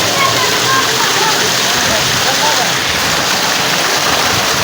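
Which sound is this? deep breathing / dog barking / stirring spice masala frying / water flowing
water flowing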